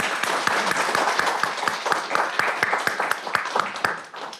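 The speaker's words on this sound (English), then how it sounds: "So let's give them a round of applause." Audience clapping at a senior games awards ceremony, a steady round of applause with individual claps standing out, fading slightly toward the end.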